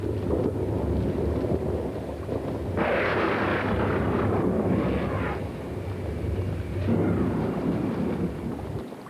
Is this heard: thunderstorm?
yes